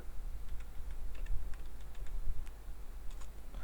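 Soft, irregular clicks of fingers typing on a keyboard, quiet and close, with a low background hum.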